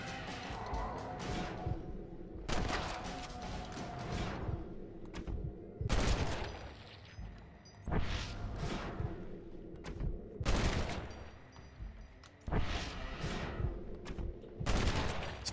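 Bursts of rapid gunfire in the video game Undead Nightmare crack repeatedly at irregular intervals, loud and sharp, separated by brief lulls filled with low ambient game noise.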